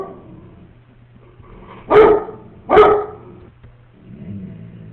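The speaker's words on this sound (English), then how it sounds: "the dog is barking." A dog lets out two loud, deep barks in quick succession, fairly close, against a quiet room with a faint low hum.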